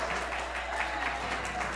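Brief, steady applause from a congregation at a morning gathering, even and moderately loud, with a low constant hum underneath.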